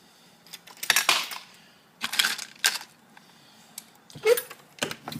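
A Dillon 550 reloading press cycling 9mm cartridges, with clustered metallic clacks, clinks and rattles of cases and parts, a handful of close, sharp bursts separated by short pauses.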